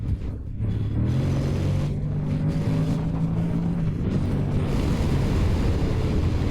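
Honda X-ADV motorcycle ridden in sport mode, a steady engine drone with rising and falling tone as it pulls through long gears, heavy wind rush over the microphone throughout, no talking.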